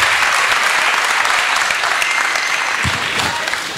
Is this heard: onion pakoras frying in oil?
no